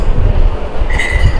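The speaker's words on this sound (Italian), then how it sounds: "siamo in treno tra Milano e Bologna." Interior rumble of a passenger train running between Milan and Bologna, a steady low roar throughout with a faint high whine rising near the end.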